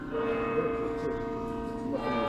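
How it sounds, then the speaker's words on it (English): Church bells ring in York, a sustained resonant tone with overlapping strikes lingering through the short stretch, fairly loud and unaccompanied by talk. "Bells rang out, not just here in York, but also in Dartmouth, in Norwich, in Bolton."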